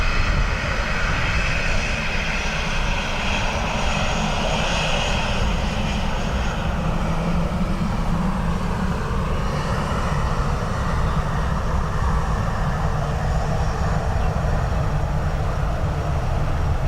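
A jet airliner roars steadily as it lands on runway 28 left at Dublin Airport in a crosswind, its engine noise loud and continuous throughout with no voices.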